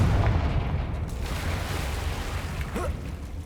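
A Confringo fire spell explodes in Hogwarts Legacy, a loud, close boom that rolls off into a fading rumble over a couple of seconds.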